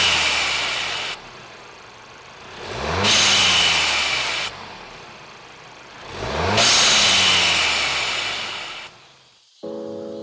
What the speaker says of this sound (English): Today we talk blow-off valves.